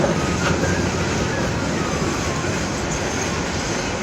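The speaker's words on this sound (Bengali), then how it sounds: "এখন ট্রেনটা একটু ধীরে ধীরে যাচ্ছে" A train moves slowly near the Brahmaputra river at Ramana Bazar, giving a steady, loud, broadband rumble with faint rhythmic clatter throughout.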